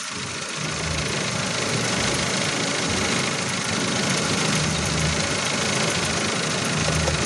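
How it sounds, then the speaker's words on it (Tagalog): Car engine idling steadily with the bonnet open during a battery check, a constant close mechanical hum with no talk over it. "paandarin muna natin yung makina. Ayan, umaandar na."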